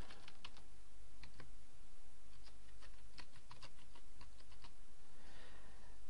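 Fingers tap quick, uneven bursts of keystrokes on a computer keyboard, entering login credentials. The clicks are close and crisp against a low steady hum, with no voices.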